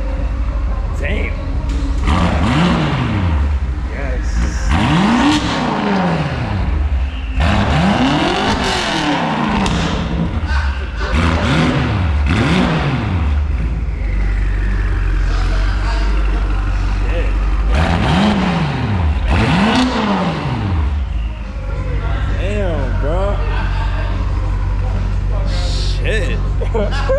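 A BMW X5 M with a loud catback exhaust cold-starts with the valve open and revs repeatedly with a throaty exhaust, rising and falling in pitch, while people talk in the background.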